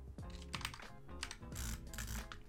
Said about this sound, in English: I need to get better at butterfly clicking